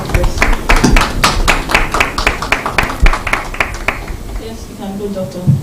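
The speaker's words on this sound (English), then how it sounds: "Please, a round of applause." Sparse individual claps from a small audience at a stakeholders' engagement event, distinct sharp hand slaps at an uneven rhythm that thin out toward the end, with speech running over them.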